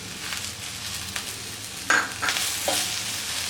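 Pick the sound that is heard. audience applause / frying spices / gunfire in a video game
frying spices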